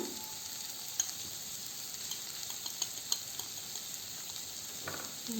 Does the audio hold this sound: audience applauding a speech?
no